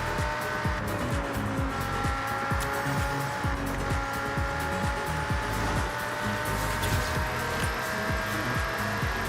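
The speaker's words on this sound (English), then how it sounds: "Kind of like this Lamborghini. It feels pretty nice to drive." A Lamborghini driven in the racing game Forza Horizon 6, its engine droning steadily and close with a rising tone and a dense rapid pulsing underneath, continuous for the whole stretch with no talk.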